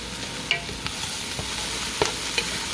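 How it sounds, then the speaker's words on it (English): Small zucchinis and garlic sauté in a hot pan, a continuous even sizzle broken by a few sharp utensil clicks and stirs, with no talking. "Okay, so this is sauteing up."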